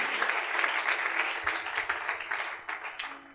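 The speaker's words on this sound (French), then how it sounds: "Est-ce qu'on peut acclamer très fort pour la parole de Dieu?" A church congregation applauds loudly for the word of God during a French-language sermon, giving a dense, steady burst of clapping that carries on for several seconds without a break.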